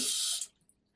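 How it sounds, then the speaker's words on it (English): Tap water runs briefly while brown rice is washed in the kitchen, a loud hiss lasting about half a second before cutting off to near silence. "I'm gonna wash the rice."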